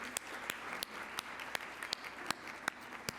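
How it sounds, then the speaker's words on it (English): Faint, sparse audience applause at a downtown Columbus retail forum, a few scattered hands clapping in a distant, roomy space, individual claps standing out at irregular intervals. "Can I please get a round of applause for this group of sponsors?"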